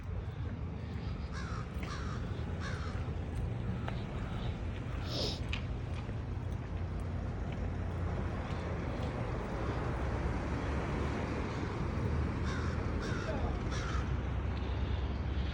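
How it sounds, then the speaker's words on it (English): Crows cawing around Bangor, Maine, repeated harsh calls from several birds at a moderate distance over steady outdoor wind and street noise, with someone talking now and then. "one thing that you'll notice in Bangor is all of these crows, especially when you get into winter"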